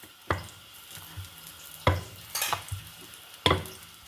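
Aloo packets roasting on both sides in a pan, a faint background sizzle punctuated by three sharp scraping knocks of a spatula against the pan, spaced evenly about a second and a half apart, close by.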